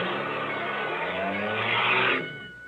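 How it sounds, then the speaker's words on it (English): A car stalls on a railroad crossing in an old-time radio drama effect: a steady, rough engine drone runs for about two seconds, then quickly drops away into quieter noise. "You stalled the car."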